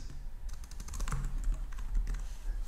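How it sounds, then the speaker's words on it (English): Steady computer keyboard typing while code is entered during SDL graphics programming in C++, irregular clustered keystrokes close up and fairly quiet, with no talking. "So let's type this out."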